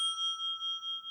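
A bright electronic quiz-answer bell rings on a Quran knowledge competition show, a clear sustained tone pulsing in quick, even beats for about a second, with no voices over it.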